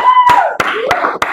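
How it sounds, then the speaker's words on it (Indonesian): A classroom group claps for a student answering in an informatics lesson, with several sharp, evenly spaced hand claps over a murmur of voices. "tepuk tangan dulu dong untuk Hilman"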